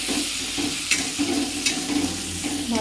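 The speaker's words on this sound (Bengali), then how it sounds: "ভালো করে আমার মশলাটা ভাজা হয়ে গেছে।" Spice paste of ground spices, turmeric and Kashmiri chilli frying in hot oil in a pan for a Bengali parshe fish curry: a steady close sizzle with occasional stirring scrapes and clicks, no talk.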